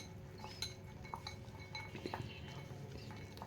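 Dry flour mixed into eggless cake ingredients in a bowl, with faint, scattered clinks and light scrapes of a spoon against the bowl, close and quiet, no talking.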